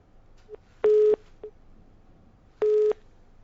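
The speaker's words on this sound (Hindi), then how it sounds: "लगता है राम सचदेवा साहब का फोन डिस्कनेक्ट हो गया है" Telephone busy tone after a call-in caller disconnects on a live broadcast, two clear, loud, steady beeps about a second apart, with a couple of soft clicks between them and no talk.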